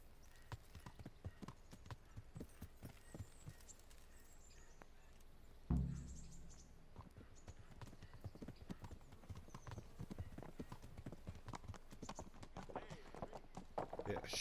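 Horse hooves clip-clop in the video game Kingdom Come Deliverance, a steady rhythmic trot that runs throughout at a moderate distance, broken by one brief louder thump partway through.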